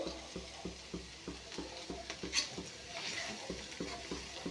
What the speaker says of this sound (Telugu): మసాలా పౌడర్ వేసి ఒకసారి కొంచెం ఫ్రై చేసుకుంటే మనకి ఎంత టేస్ట్ అయినా ఎగ్ ఫ్రై రెడీ అయిపోతుంది